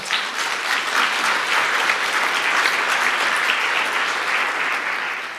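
Audience applause at a panel debate, a steady wash of many hands clapping that holds evenly for several seconds before easing slightly at the end.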